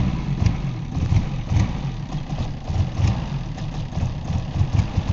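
A 2001 Chevrolet Malibu engine bogging under hard acceleration, a steady low rough drone with rhythmic pulsing surges and stumbles, recorded close by with no talking.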